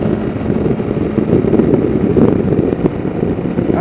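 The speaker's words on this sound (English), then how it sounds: "enjoy feeling the wind whip around me." Wind rushes and buffets constantly past a rider on a motorcycle, a loud, dense roar with low rumble that stays steady throughout with no talking.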